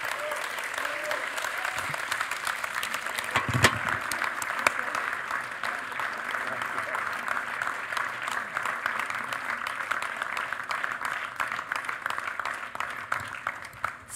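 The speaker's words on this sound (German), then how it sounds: "Applaus" An audience in a hall applauds at the close of a live talk event, broad sustained clapping that carries on steadily for about fourteen seconds, with some voices mixed in underneath.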